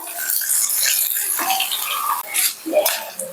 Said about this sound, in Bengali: এবার আমি এই আলুগুলো ভালোভাবে খুন্তির সাহায্যে আরও টুকরো টুকরো করে দেবো